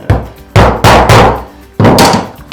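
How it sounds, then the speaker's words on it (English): Four loud, sharp hammer blows strike in an uneven rhythm, punching a hole through paper, each a heavy thunk with a brief ringing decay, close by and without talking. "we're just going to hammer through the paper to create a hole"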